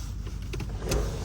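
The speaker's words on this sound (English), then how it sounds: "Click it one more time and the glass itself opens." The rear window glass of a 2024 Audi RS 6 Avant pops open with a soft motorized whir, a couple of faint clicks and a louder thunk near the end, close by outdoors in the cold.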